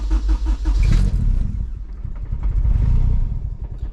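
A boosted Honda Civic with a K20 engine cranks and catches, then sputters and stumbles at a very low cold idle before dying, with loud rough bursts and a second surge of engine rumble, close by.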